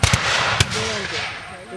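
Musket gunfire from battle reenactment sections firing, several sharp reports in quick succession at the start with another shot shortly after, followed by a rumbling tail and faint voices.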